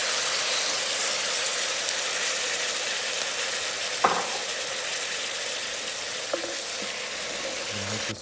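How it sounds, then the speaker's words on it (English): Marinated goat meat frying with onion in an Instant Pot gives a steady, close sizzle throughout, broken by a few sharp stirring clinks and scrapes, with no one talking. "Now we can add the meat and fry it for a few minutes."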